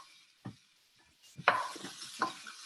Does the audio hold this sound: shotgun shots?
no